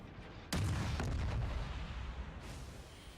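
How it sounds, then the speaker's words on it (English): World of Warships naval battle: a tier 5 American premium battleship fires a heavy broadside of high-explosive shells, one loud sudden boom followed by a long rumbling roll and distant cracks fading into low ambient noise. "So I fire some high explosives at him"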